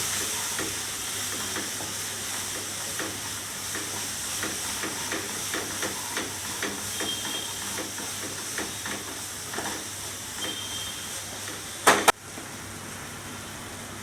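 Fenugreek leaves sautéed with dry spices in a pan, a continuous soft sizzle with light rhythmic stirring scrapes, ending in a sharp metallic clank, no speech.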